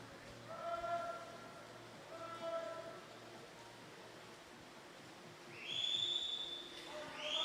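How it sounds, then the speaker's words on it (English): Spectator whistling at a long course swimming championship, several faint high whistled tones in short repeated phrases over a hushed hall ambience, with a brighter, sustained whistle later on. "Please stop whistling."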